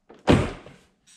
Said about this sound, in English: Grab the bottom corner of the door panel and give it a tug.